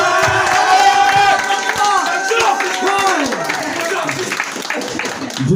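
A theatre audience claps in rhythm during a comedy stage show, hands beating under a performer's loud voice and crowd noise.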